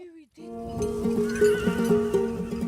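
A horse in Georgia neighs loudly and close by, a wavering whinny that rises and then trails into a long shaky series of pulses.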